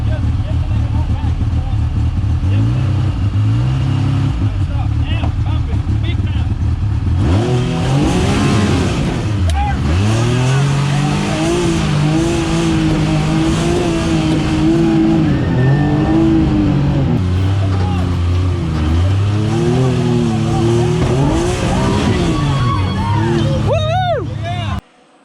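Arctic Cat Wildcat XX UTV driven hard off-road, its engine loud and close, revving up and down in repeated surges with rising and falling pitch before cutting off abruptly at the end.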